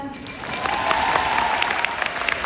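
A concert audience in Kyiv applauds during a band's show, a dense, steady roar of clapping with a few brief cheers mixed in.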